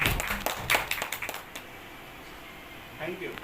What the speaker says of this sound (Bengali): একবার জোরে করতালি জোরে করতালি